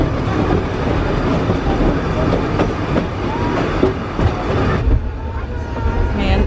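A train in India rumbling past nearby with a steady loud roar and rhythmic clickety-clack of wheels on the rails, continuous throughout.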